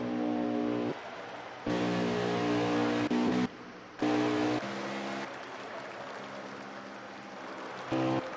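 Race car engine drone in a racing video game at Texas, a continuous harmonic whine that steps up and down in pitch as gears change, with abrupt cuts between segments and no talk.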